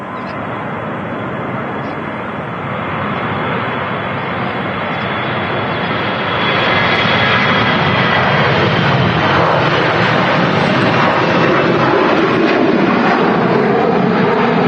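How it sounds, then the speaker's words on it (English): A Jet2 Airbus A321 jet at Manchester Airport gives a loud, steady broadband roar that builds over the first seconds and holds, close and sustained with no talk. "Here's another Jet2 A321"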